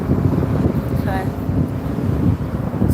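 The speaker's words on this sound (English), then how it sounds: "So y'all can see how windy it is." Steady gusting wind buffets the microphone outdoors at a vendor sales table in Atlanta, a continuous loud low rumble throughout the clip.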